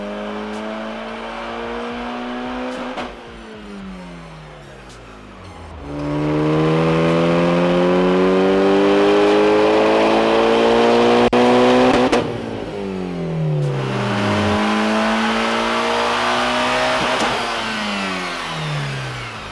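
A Mitsubishi Evo engine on a dyno during tuning pulls, loud close revving that climbs steadily through the rev range, drops back, then sweeps up again in repeated long pulls.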